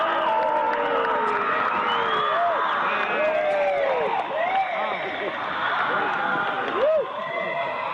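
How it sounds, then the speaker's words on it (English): A large gathering cheers, whoops and yells at the close of the Cremation of Care ceremony, a dense continuous roar of many voices with scattered shouts rising above it, loud and sustained throughout. "When that ceremony ends, they all start to cheer and yell."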